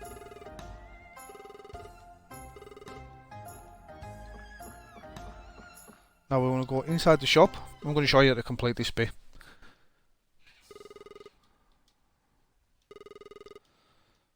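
Music plays, then someone talks, followed by an old-style telephone ringing in the Xbox One video game Red Bow, in two separate short bursts with silence between.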